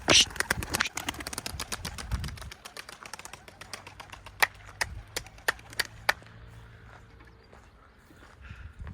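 Young pigeons are flown, wings flapping and clapping in a quick burst of dense beats at first, then sparser sharp claps spaced out over the following seconds, close by with low background noise.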